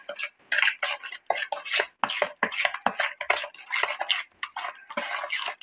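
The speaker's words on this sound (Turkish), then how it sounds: "Tüm malzemelerini şöyle bir kaşıkla karıştırıp ununu ilave edeceğim." A spoon clatters and scrapes around a bowl, stirring liquid ingredients for tangerine-scented homemade cookie dough, in quick, irregular metallic clicks and knocks with short pauses between strokes.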